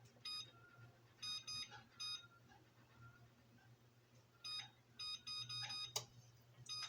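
Kitchen timer being set, giving clusters of short high-pitched electronic beeps in quick groups separated by pauses, faint over a low steady hum.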